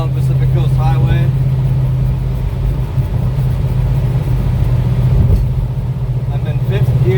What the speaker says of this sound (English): I'm in 5th gear right now and going 65 miles an hour.